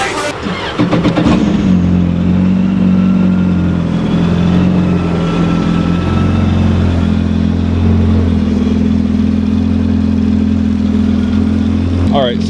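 A 2019 Yamaha FX SVHO personal watercraft engine fitted with a Riva Racing blow-off valve and air intake, reflashed to 8,500 RPM, runs loud and close with a steady, heavy droning hum, with brief clatter at the start and end.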